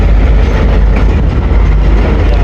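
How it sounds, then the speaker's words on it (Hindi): A locomotive shunting train cars at a railway station on the Jaffar Express route at Attock, a loud, steady low rumble of idling engine and rolling stock with no talk. "जो लोकोमोटिव लेके आया है वही शंटिंग करता है"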